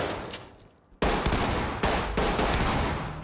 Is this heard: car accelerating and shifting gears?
no